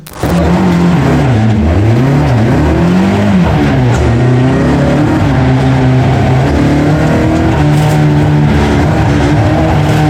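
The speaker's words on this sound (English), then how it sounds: "he's stuck in second gear in an old vintage car, a little 4-cylinder, 100 and something horsepower car" Vintage 1980 Toyota Corolla rally car with a small four-cylinder engine of just over 100 horsepower, stuck in second gear, revving hard and loud, its pitch climbing and dropping repeatedly as it charges through hairpins on a rally stage.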